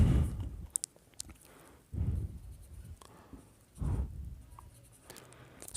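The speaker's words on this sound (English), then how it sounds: "Let me draw." A pen scratches across paper while a diagram is drawn, in three separate strokes, each about a second long, with quiet gaps between them.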